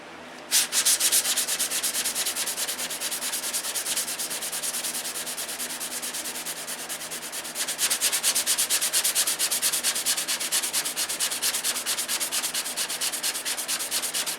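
Steady, rapid back-and-forth scraping of sandpaper on wood, loud and close, during an aircraft aileron repair, continuing without pause and growing slightly stronger partway through.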